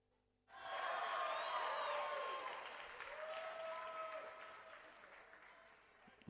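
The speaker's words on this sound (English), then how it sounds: "some of the audience members are clapping along with him" Audience at a professional wrestling show clapping steadily, a dense sustained burst of applause that begins abruptly and holds loud before tapering slightly, with some crowd noise mixed in.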